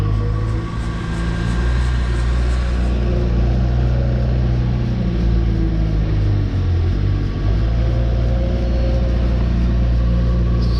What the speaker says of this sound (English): there's an auger in the center there that mixes it all up